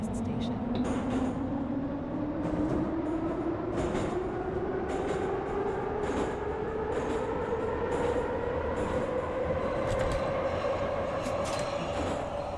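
Simulated TTC subway train in Garry's Mod Metrostroi running along track, a continuous loud motor whine rising steadily in pitch as it accelerates, with rhythmic rail clicks and squeals over a constant rumble.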